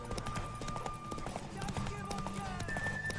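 Horse hooves clip-clop at a gallop in The Witcher 3, a steady rhythmic pounding under game music and someone talking throughout.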